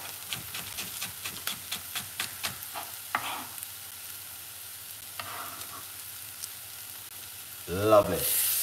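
Spring onion frying in a pan for an eggplant curry with sweet potatoes, with rhythmic stirring scrapes over a steady sizzle, then a louder burst of sizzling near the end.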